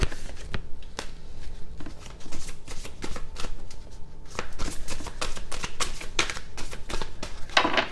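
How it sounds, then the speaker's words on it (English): Tarot cards being shuffled by hand in quick repeated riffles and slaps, close and crisp, with brief pauses between bursts and no talking. "3 more shuffles."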